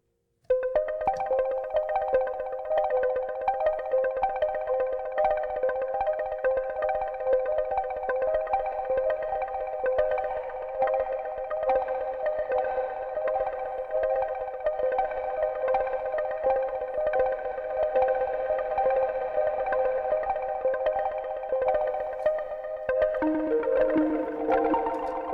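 A sustained, gritty Sequential Take 5 synthesizer patch with overdrive and reverb drones steadily for over twenty seconds with a distorted edge, shifting to a lower pitch near the end.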